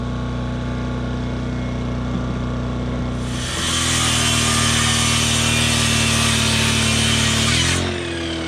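A power saw cuts through an oak hardwood flooring board indoors in a cabin, idling briefly before a loud, steady cutting whine for about four seconds, then spinning down.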